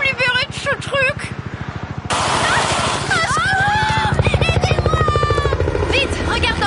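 A cartoon helicopter's rotor chops steadily and loudly throughout, with animated voices talking over it and whooshing effects.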